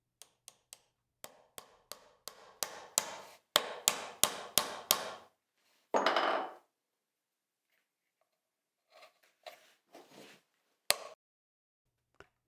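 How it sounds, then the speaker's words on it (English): A hammer pounds nails into a wooden trug held in a workbench vise, a series of sharp close knocks that speed up into a rapid run, then a pause and a few scattered final blows. "pounds those nails in"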